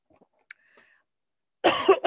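A person coughs in a short burst of two or three rough, close coughs at the end, following near silence with a few faint clicks.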